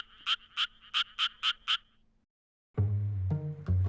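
A Japanese tree frog gives a quick series of six or seven sharp, evenly spaced calls, followed after a pause by a different lower croaking frog.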